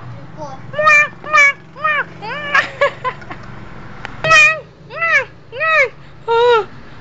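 A string of cat-like meows, about eight drawn-out, rising-and-falling calls in a steady rhythm, loud and close, with bits of speech and noise between them.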